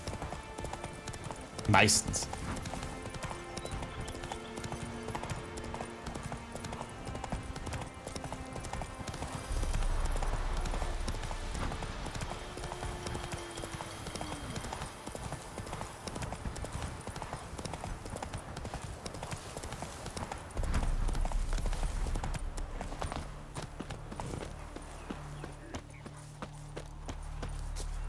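Hooves of Geralt's horse Roach clip-clopping steadily in Witcher 3, a continuous trotting rhythm under game music with someone talking over it.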